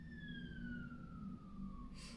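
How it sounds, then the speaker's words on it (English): An emergency siren wails as it passes outdoors, its falling tone sweeping steadily downward at a moderate distance before ending in a brief burst of noise. "I'll just let that siren pass."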